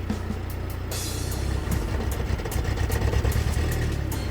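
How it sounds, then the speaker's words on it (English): A car with a stalling problem when the AC is on is revved, its engine rising from a rough idle to a louder, steadier roar close by. "Let me rev it again."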